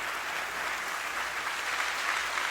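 A church congregation applauds during a sermon, a dense, even wash of many hands clapping at a distance, steady and sustained without a break, with no voices standing out.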